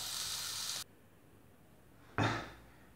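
Steak sizzles loudly in a pan with butter, a close, bright hiss that cuts off, goes quiet for over a second, then bursts back at full strength and slowly eases.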